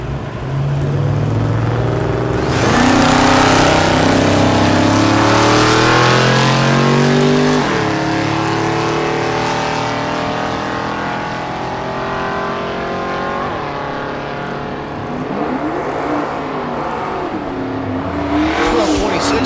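Drag racing cars, including a Mustang, roar loudly at Thunder Valley in Noble, Oklahoma, engines revving and rising in pitch as they launch and pull away, a sustained powerful drone with shifting tones throughout.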